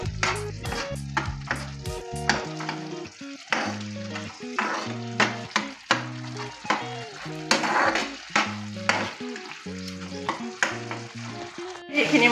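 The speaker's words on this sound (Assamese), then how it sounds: "এতিয়া ভালকৈ অকণমান ভাজি লৈ" Taro with turmeric is stir-fried in a pan, giving a steady sizzle. A spatula stirs and scrapes against the pan in repeated strokes about once a second, close and moderately loud.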